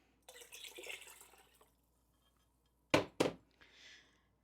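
Water poured into a pot of vegetable beef soup, a short splashing pour followed by two louder sloshing bursts and a fainter trickle, close and alone with no talk.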